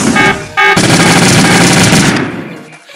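Dense gunfire from the survival game Last Day On Earth: Survival, loud and continuous after a short break, rattling on for about two seconds before fading out.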